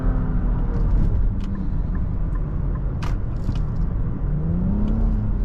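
A 2023 Nissan Rogue Platinum with a 3-cylinder engine and CVT accelerates, its steady low engine drone and road rumble filling the cabin, with a gentle rise in pitch near the end.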